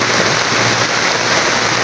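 Very heavy rain pours down in a dense, constant hiss close by. It is brief, unbroken and loud, with no voices.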